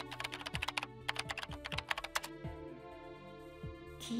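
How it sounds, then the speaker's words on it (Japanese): Keyboard typing from the video game SD Gundam Battle Alliance, a quick run of crisp clicking keystrokes in uneven bursts over a soft sustained musical background, fading out into the music alone. "キーボードから入力してる。"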